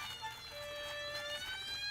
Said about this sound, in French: s'amusait avec son camion de pompiers